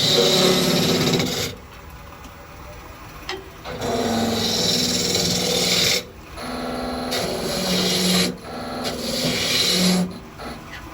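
A wood lathe spins a ball box while a gouge cuts, giving a steady rasping, scraping tone that drops off in several short pauses and then resumes, close and fairly loud.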